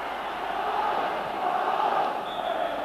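Capacity all-ticket football stadium crowd at a Hearts versus Rangers match, a steady, dense roar of many voices sustained at an even level throughout, with no distinct commentary on top.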